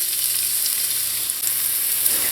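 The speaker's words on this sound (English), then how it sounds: "To the oil I'm going to go in with some chopped onions." Chopped onions sauté in oil in a pot over medium heat, giving a steady, close hiss of sizzling throughout, with faint stirring movement and no talking.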